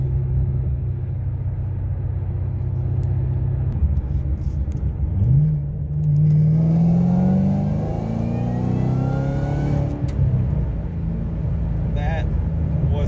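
A 2010 GT500 with a Trinity 2.3 supercharger revs and accelerates, a rising, high-pitched supercharger whine climbing over a steady low engine rumble, close and loud throughout.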